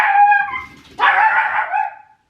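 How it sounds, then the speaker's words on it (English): A neighbours' dog gives two loud, whiny barks or yelps that trail off into a whimper, heard close by and clear with no other sound. "so barky dog was happening"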